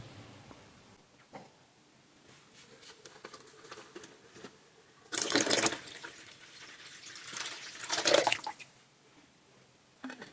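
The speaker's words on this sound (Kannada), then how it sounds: "ಈಗ ನಾನು 1 ಲೀಟರ್ ನೀರು ಅಂದ್ರೆ 3ನೇ ಲೀಟರ್ನ ಇದ್ರೊಳಗಡೆ ಹಾಕ್ತೀನಿ" Water poured from a bottle into a disposable diaper already soaked with two litres, a third litre going in; bursts of splashing and trickling rise twice, loud and close, between quieter dripping.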